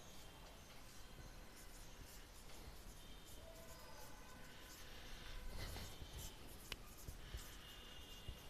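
Pen or chalk writing out differentiation formulas for a vector calculus lesson, a soft continuous scratching and scraping that runs steadily throughout, close and fairly faint, with no talking.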